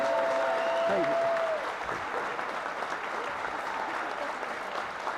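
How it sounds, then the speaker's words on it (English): Applause from the audience at a high school boys basketball game fills a gym, a steady crowd clapping that is loud at first and then settles to a softer patter, with an announcer's voice over it early on. "So one more round of applause for the 1995 Mighty Oaks State Finals team."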